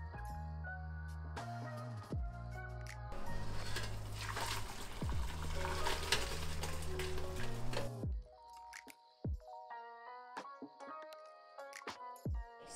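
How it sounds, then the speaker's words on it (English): Anchovy and mushroom broth for kimchi sujebi is poured through a strainer in a kitchen. A rushing, splashing pour fills the middle of the stretch, between tonal background music and a few sharp clinks and drips at the end. "Now let's get ready to strain the broth and make our soup."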